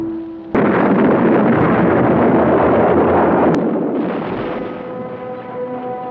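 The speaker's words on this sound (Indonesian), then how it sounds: "dan ledakan pun terjadi, sekaligus menghancurkan beberapa rumah warga sipil" A bomb blast bursts in suddenly after a brief tone, then a long roaring, rumbling wash of debris and noise that slowly fades, loud and close, with no voices.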